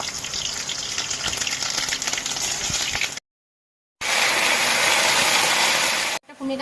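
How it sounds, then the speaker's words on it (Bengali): Dried chili, green chili and mustard seeds crackle and sizzle in hot oil as a tempering before frying stems. The hiss is loud and steady and cut off twice by sudden silences. "ওলের ডাঁটা ভাজার জন্য শুকনো মরিচ, কাঁচা মরিচ আর সরষে ফোড়ন দিয়ে নিচ্ছি।"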